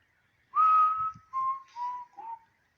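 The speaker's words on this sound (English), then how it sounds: "I'll be whistling, and it'll sound like a whisper" A person whistles a short, clear four-note phrase, sliding downward, close by with quiet around it.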